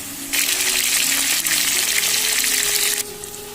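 Cumin tempering in hot oil with ginger, cumin and chilli paste added, frying for a Bengali potato dish: a loud, steady hiss of sizzling that rises abruptly, holds for nearly three seconds, then drops back to a low background.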